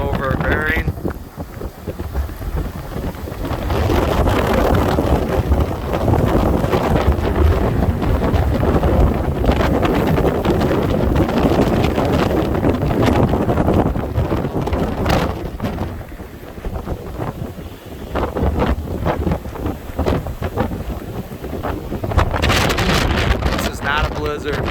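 Strong wind on a windy day in Minnesota roars and buffets the microphone in loud, continuous gusts that rise and fall.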